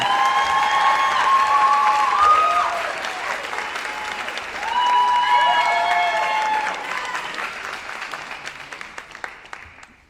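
Applause and cheering from a commencement audience, with bright whistles or whoops rising over the clapping and the crowd noise thinning out toward the end.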